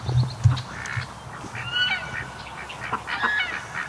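Geese honk intermittently over a low background rumble, the calls moderately loud and scattered, some overlapping, with no talking.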